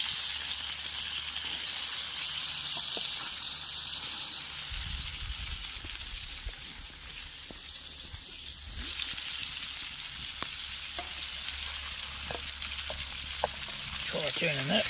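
Gouged eel sizzling and frying over an open camp fire, a steady close crackle and spit with occasional louder pops and shifts as it cooks, no voices.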